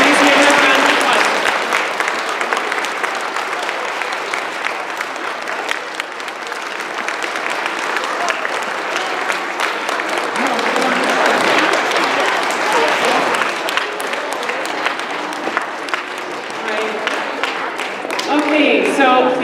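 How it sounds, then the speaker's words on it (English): Audience applause at a school Veterans Day assembly rolls on steadily for nearly twenty seconds, a thick, close crowd of clapping hands with some voices mixed in. "please give her a round of applause"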